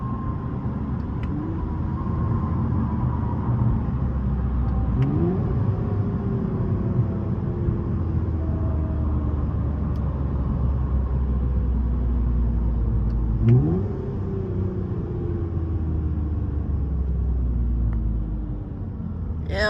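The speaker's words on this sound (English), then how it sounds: "this car, it goes from a deep tone to a screaming tone real quick." Toyota Camry TRD engine revving hard, its note climbing from a deep rumble toward a higher scream in repeated rising sweeps, loud and close with steady road rumble underneath.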